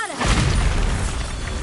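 A Bombarda blasting spell goes off in a Harry Potter-style magic video game: a sudden loud boom at the start, then a dense, roaring crash that stays close and heavy for over a second.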